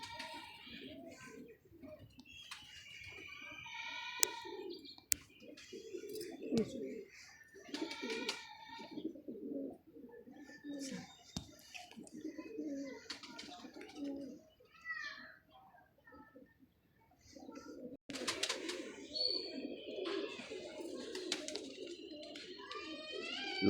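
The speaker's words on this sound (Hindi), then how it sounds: "लो जी, माशाल्लाह कबूतर भी आ गया।" A sick fancy tumbler pigeon with a ring on its leg coos repeatedly at close range in soft throaty bursts, with other bird chirps and a person talking over it at times.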